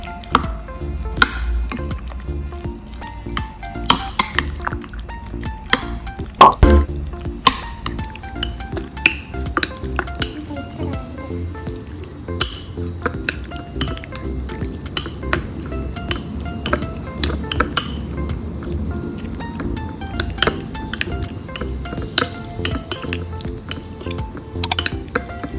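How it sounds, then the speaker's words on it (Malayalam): Chicken pieces for homemade popcorn chicken being mixed by hand with a cumin spice paste in a bowl, with irregular clinks and wet stirring sounds close by, no talking. "ഇതെല്ലാം കൂടെ നമുക്ക് നന്നായിട്ട് മിക്സ് ചെയ്യാം."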